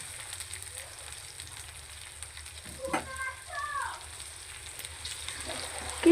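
Something frying gently in a pan for a winter vegetable dish, stirred until it turns reddish brown. A faint, steady sizzle runs throughout with low background hum, and a voice speaks briefly partway through.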